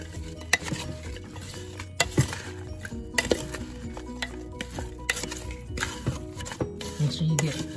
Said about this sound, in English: I'm gonna give it a quick stir